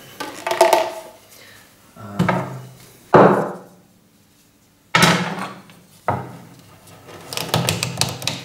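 A cork being pushed into the end of a handmade wooden flute, a few hollow wooden knocks and thuds with rubbing and scraping between them, close and fairly loud.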